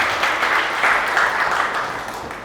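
Church congregation clapping together, a dense and even burst of applause that holds steady for a couple of seconds before easing off slightly, with no talking.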